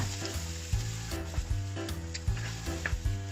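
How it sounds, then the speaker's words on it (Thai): Garlic, then onion, frying in oil in a pan for plant-based beef fried rice, a continuous sizzle broken by repeated scraping stirs and soft clacks of a utensil, close and moderately quiet, no voices. "เสร็จแล้วเอากระเทียมลงไปเจียวนะคะ ตามด้วยหอมหัวใหญ่ค่ะ เจียวทั้งสองอย่างให้มีกลิ่นหอมเลยค่ะ"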